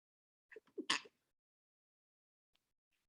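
A single sneeze during an online C1-level English class, a short voiced intake followed by one sharp burst, fairly faint and isolated in an otherwise quiet room.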